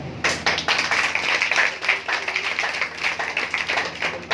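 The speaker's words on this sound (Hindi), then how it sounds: "यीशु के लिए जोरदार ताली बजाएं।" Hindi-speaking church congregation clapping loudly for Jesus during a sermon, a fast, fairly rhythmic run of hand claps from a group, close and lively, continuing for several seconds without talk.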